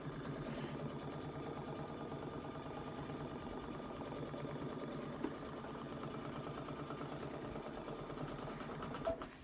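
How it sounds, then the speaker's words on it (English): A Solaris 2 embroidery machine stitching a border in a magnetic frame, a continuous, even mechanical hum with a fine rapid needle rhythm throughout, close and steady with no talk. "Now I lower the presser foot, and now I'm ready to stitch."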